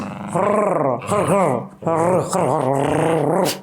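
Rhythmic growling in several bursts, close and loud, like a dog growling back with a vocal, rumbling tone.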